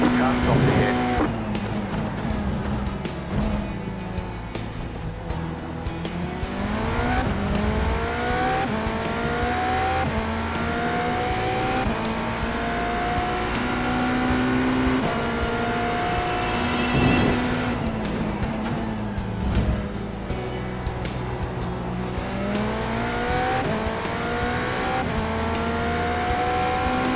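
A GTE race car in the IMSA class at the Red Bull Ring in iRacing sustains a loud engine note, revving and shifting through repeated rising sweeps with brief tire squeal, while a voice talks over it.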